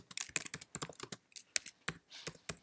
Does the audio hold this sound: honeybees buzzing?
no